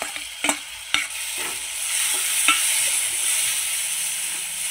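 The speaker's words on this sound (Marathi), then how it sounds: "आपण भिजवून ठेवलेली मटकीची डाळ टाकायची आता, आणि ही पण परतून घ्यायची." Soaked moth bean dal sautéed in a hot pan with turmeric gives a steady, moderate sizzle, broken early by a few sharp scrapes of a spoon stirring against the pan.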